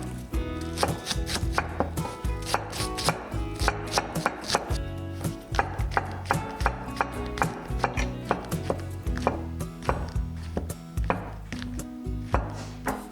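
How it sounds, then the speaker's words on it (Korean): A knife finely chops a quarter onion and shiitake mushroom caps on a board, with quick, steady, close taps repeating through the whole stretch without any voices. "양파 4분의 1 쪽과 표고버섯 머리 부분을 잘게 썰어 주세요."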